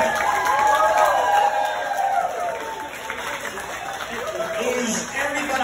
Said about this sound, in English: Give yourself a big round of applause for coming out to Julia and Ben's wedding.